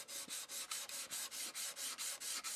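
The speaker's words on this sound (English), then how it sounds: "Just a very light sanding to take away any look like you've just sanded one spot." Light hand sanding on the hull of a model HMS Thorn, a steady series of about a dozen even, rhythmic rasping strokes, close and clear with no talk.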